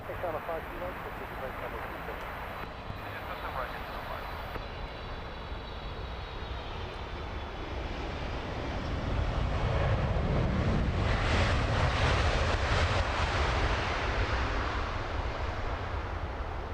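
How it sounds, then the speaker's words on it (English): A big Boeing 777 lands at Heathrow Airport, its broad jet roar building steadily and peaking loudly near the end, mixed with wind buffeting on the microphone and some talk. "Lovely big 777 touchdown there"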